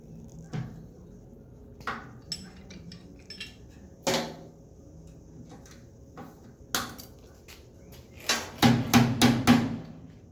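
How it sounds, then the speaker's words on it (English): Homemade wire clamp tool built from scrap metal, its handle twisted to compress a cable: scattered metallic clanks and taps, close and moderate in volume, ending in a quick burst of several knocks. "We're going to twist the handle, and you're going to see how this compresses."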